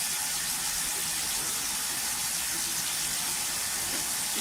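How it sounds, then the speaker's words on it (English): A kitchen tap runs loudly and continuously into a sink while small dishes are washed, a steady broadband rush of water close to the microphone with no pauses. "washing little dishes."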